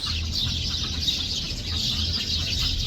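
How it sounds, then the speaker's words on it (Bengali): Large domestic goose weighing around four to five kilograms calls among poultry on a farm inside a date palm orchard in Saudi Arabia, with steady bird calling over a continuous low background hum. "অনেক বড় সাইজের রাজহাঁস।"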